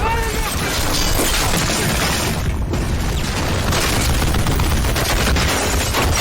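Dense battle gunfire and booming blasts fill a film scene in Escape from Tarkov: Raid, a continuous loud barrage of shots and explosions with no pause.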